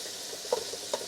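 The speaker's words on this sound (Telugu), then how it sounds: "తాలింపు ఇట్లా అంతా వేసిన తర్వాత" Tempering for tomato rice sizzles faintly in hot oil, with a soft continuous hiss and two light stirring clinks close by.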